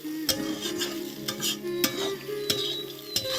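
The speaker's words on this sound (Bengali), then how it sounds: "আর এদিকে দেখো উচ্ছে আর আলু কিন্তু আমার অনেকটাই ভালোভাবে ভাজা হয়ে গেছে।" Bitter gourd and potato frying in a pan, with a steady soft sizzle broken by sharp clinks and scrapes of a spatula stirring the pieces, close up and without speech.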